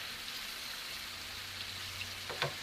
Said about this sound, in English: So I clean up the scallion and the onion them like this before I drop them in the oil.